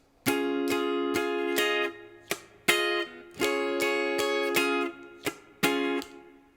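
A guitar strums a chord in a steady rhythm, with ringing downstrokes broken by short muted scratches, close and clear, no voices.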